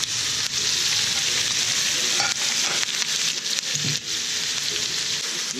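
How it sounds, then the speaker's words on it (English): Meat sizzling loudly in a hot pan while cooking for pansit, a continuous bright frying hiss with occasional stirring scrapes, close and alone. "I think we're gonna cook the meat. A little sizzle."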